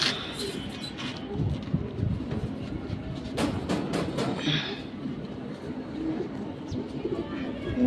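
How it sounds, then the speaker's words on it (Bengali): Silver bezi pigeons coo under continuous background rumble that sounds like a passing train, the soft low calls repeating at moderate distance amid clatter. "কবুতর দেখেন"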